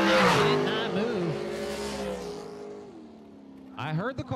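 A drag racing car launching down the strip at a bracket race with a big prize on the line, its engine roaring loud and close with rising, shifting pitch as it pulls away, then fading while an announcer talks.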